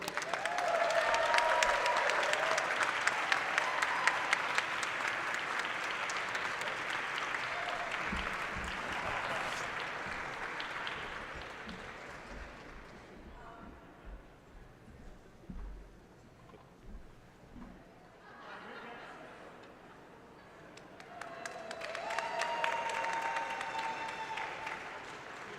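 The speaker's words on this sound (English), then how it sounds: "So my applause to all of you." Audience applause at a recognition ceremony rises loudly at the start, fades into a quieter stretch with scattered low thumps, then swells again near the end; no talk is heard over it.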